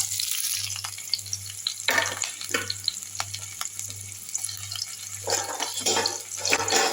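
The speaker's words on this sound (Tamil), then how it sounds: "இப்போ இந்த எண்ணெயில் வெங்காயத்தையும் பச்சை மிளகாவையும் போட்டுடலாம்" Onions and green chillies frying in hot oil, a bright continuous sizzle up close, with bursts of stirring and scraping and a low steady hum underneath; nobody speaks.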